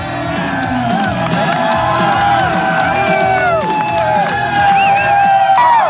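A crowd cheers, whoops and yells at a 1990s mountain bike race, loud and sustained with rising shouts throughout.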